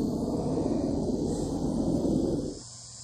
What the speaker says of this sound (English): If you hear a distant rumble, that's a plane,